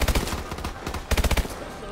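Rapid bursts of automatic gunfire from a weapon in Call of Duty: Advanced Warfare, two clusters of close, loud shots separated by a brief lull.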